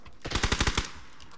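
A rapid burst of about seven machine gun shots in a video game, loud and evenly spaced, then a quiet tail.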